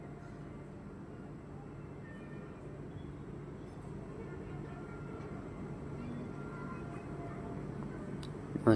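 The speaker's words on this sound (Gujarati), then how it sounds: "સામે જાય છે ટ્રેન।" A train passes nearby, giving a steady, moderately loud low rumble that holds for the whole stretch and swells slightly toward the end.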